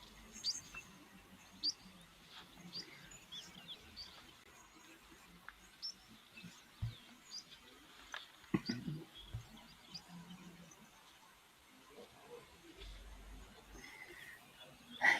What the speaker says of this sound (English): we're just listening for the birds around